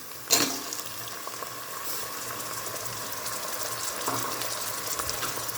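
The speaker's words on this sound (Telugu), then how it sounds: "ఇప్పుడు మనం టమాటా వేసుకుందాం" Tomatoes go into a hot pan for a mutton chana dal curry with a sharp hiss, then fry with a steady, moderate sizzle. A second burst of hissing comes near the end.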